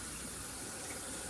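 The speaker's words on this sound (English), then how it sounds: "You got to rinse it off all over." Tap water runs in a continuous, close, even gush while a turkey is rinsed under the faucet, heard alone for a brief moment.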